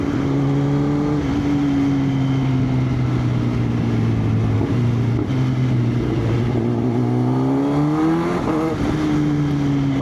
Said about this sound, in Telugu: బ్యాక్ ఫైర్స్ వదులుతూనే ఉంది.